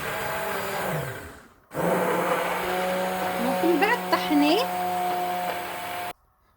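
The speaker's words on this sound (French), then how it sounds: "Donc mixez votre mélange donc de lentilles et légumes." Blender pureeing a lentil and vegetable soup, a loud close whirring drone that starts abruptly after a short gap, changes pitch as it works through the mixture, and cuts off sharply.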